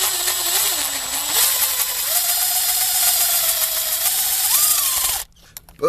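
A power driver whines steadily, its pitch stepping up as it drives a screw while installing a speaker in the door of a 2013 GMC Sierra, close and loud for about five seconds before stopping.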